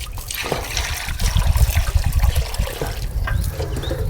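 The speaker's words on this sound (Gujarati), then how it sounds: "તો આ રીતે રોજ કુંડા ભરવી છે." Water is poured into bird drinking pots, a close, steady splashing trickle that runs for the whole few seconds with no one talking.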